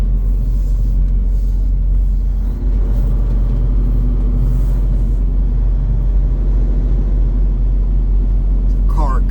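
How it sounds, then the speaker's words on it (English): A car passes on the road near a Greeley, Colorado beef plant, its engine rumble heard from inside a vehicle as a steady, loud low drone throughout, with faint talk over it. "There's a car coming"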